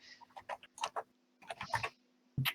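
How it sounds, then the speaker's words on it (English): Quick, irregular bursts of clicking keystrokes on a computer keyboard come in short clusters with brief pauses, fairly close and crisp over a faint steady electrical hum. "I can hear him typing."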